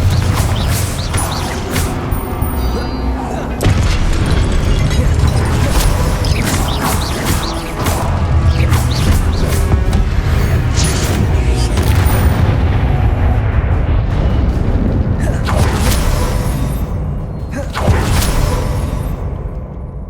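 Spell blasts and explosions from the Hogwarts Legacy video game boom and crash in rapid succession, loud and dense with whooshes and impacts across the whole stretch.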